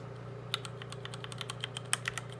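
Keys on a SteelSeries Apex 7 TKL keyboard tap in quick, irregular clicks close up, with a few sharper clacks over a steady low hum.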